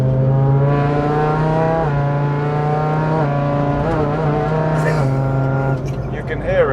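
A V10 car with straight-pipe exhaust drones loudly and close while driving on a road, engine pitch rising and falling through shifts, with voices talking inside the cabin.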